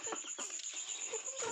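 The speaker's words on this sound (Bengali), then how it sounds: "দেশি মুরগি," A desi chicken gives a few short, soft clucking calls in a yard, faint and close together over a light background hiss, with no speech.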